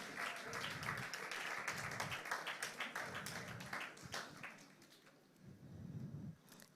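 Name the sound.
audience applause as a speaker walks to the stage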